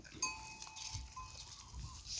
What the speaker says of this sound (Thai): วันนี้มาอัปเดต ลูกวัว แม่พื้นบ้าน